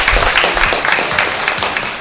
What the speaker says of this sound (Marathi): एकदा वैष्णवीसाठी टाळ्या प्लीज.